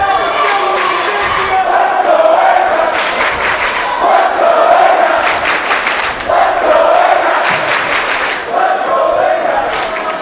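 Columbine fans roar in a high school gym at a boys basketball playoff game versus Arapahoe, waves of loud cheering and shouting that swell and ease, with a commentator talking over the crowd.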